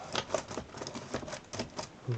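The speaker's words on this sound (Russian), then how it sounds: "Внедряем клавиатуру." Laptop keyboard being pressed and clicked into place during reassembly, a series of close plastic taps and snaps in an irregular rhythm, with someone speaking briefly.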